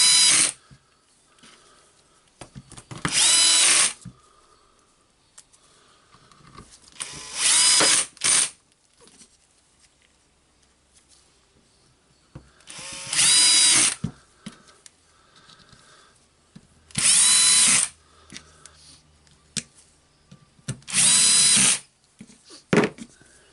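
A DeWalt DCF886 brushless impact driver drives screws back into its own housing in five loud, close bursts of a second or so each, separated by quiet pauses with small handling clicks.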